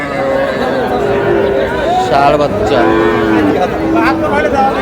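Cattle, including young bulls and heifer calves, moo and low repeatedly amid a busy, chattering crowd of bargaining voices at the Ambari cattle market in Dinajpur, with animal calls rising through the constant din.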